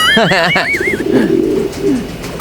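Pigeons coo in soft, rolling, repeated calls, close by, with a brief whistling trill at the start.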